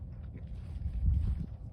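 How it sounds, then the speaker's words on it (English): A boat out on open water at a public-land shoreline, heard as a low, steady rumbling drone with some wind noise, moderately near and swelling slightly louder toward the end, with no talk over it. "I hear a boat."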